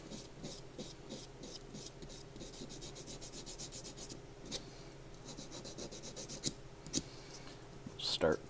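Hand file working a CPX trigger pivot, a quick series of rhythmic rasping strokes followed by a few slower scrapes and clicks, close and fairly quiet.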